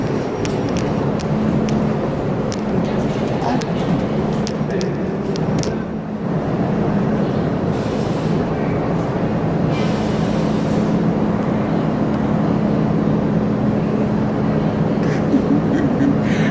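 An NYC subway R-32 train runs with a steady, loud rumble and rattle throughout, heard close from inside or beside the car, with faint squeals and clatter over the continuous roar.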